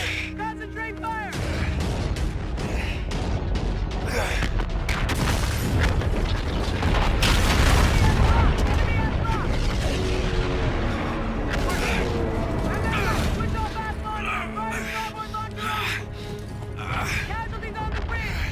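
Sustained gunfire and heavy explosions in a Call of Duty: Infinite Warfare campaign battle, dense and loud throughout with booming impacts building mid-clip, under shouted combat commands.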